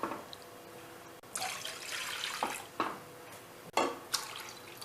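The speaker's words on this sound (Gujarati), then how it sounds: "પછી તેમાં પાણી ઉમેરવું।" Water poured from a glass into a kadai on a lit gas stove, a few splashing gushes and drips that come in short bursts, moderately quiet with no voices.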